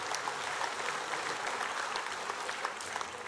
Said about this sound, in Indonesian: Berikan tepukan bergemuruh kepada mereka semua.